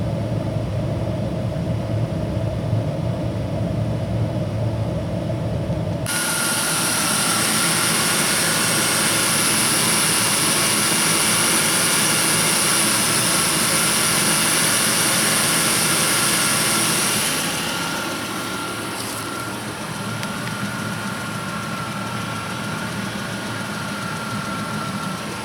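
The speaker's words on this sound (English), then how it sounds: "let your engine run for about 10 to 15 minutes" A 2000-2007 Ford Taurus engine idles steadily with the heater running, a constant mechanical hum joined partway through by a louder, hissing blower rush that later eases slightly.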